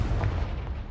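A fiery blast from the Confringo spell in the video game Hogwarts Legacy, a loud, dense, booming explosion that fills the whole second-long clip.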